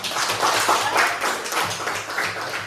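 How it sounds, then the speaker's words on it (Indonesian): Schoolchildren in a classroom clapping together in uneven bursts, moderately close and steady for a few seconds, with no talk over it. "Berikan tepuk tangan."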